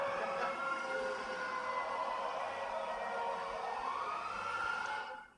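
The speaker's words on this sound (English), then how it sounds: "There's the English siren to kind of get us going." An emergency vehicle siren wails, rising and falling steadily for several seconds, loud and continuous over a busy traffic background, then cuts off abruptly.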